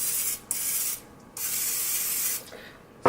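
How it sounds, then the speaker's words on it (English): A zero-calorie cooking oil spray hisses in several short bursts, each a soft, close, airy spray separated by brief pauses, with no talking. "Use a 0-calorie spray like this one,"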